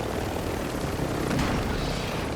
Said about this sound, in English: lands the helicopter